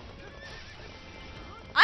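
In Hyrule Warriors, a horse whinnies loudly near the end after a quiet stretch of soft game ambience, the neigh bursting out suddenly and close.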